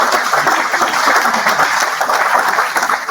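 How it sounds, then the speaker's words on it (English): A big round of audience applause for a panel of speakers at a summer business event, dense steady clapping filling the room at close range for the full stretch, no voices over it. "But a big round of applause for our panelists"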